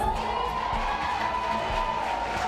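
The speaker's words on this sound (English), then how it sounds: "that's all the people in the gallery cheering for Hannah" A courtroom gallery crowd cheers after a kidnapping sentencing, a dense, steady wash of many voices shouting and whooping together at moderate loudness for the whole stretch.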